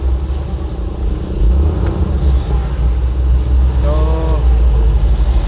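Camper van rolling along a highway on a flat tyre, with a heavy low rumble of engine and road noise inside the cabin, steady and loud, and a brief spoken word near the start.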